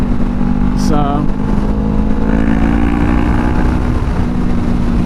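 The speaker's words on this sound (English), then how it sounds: "it sounds so good when I rev it" A 2020 Honda CBR500R motorcycle engine runs nearby with a steady, loud drone and a brief rising rev early on. A voice talks over it.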